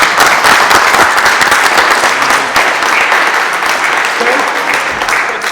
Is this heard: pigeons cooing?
no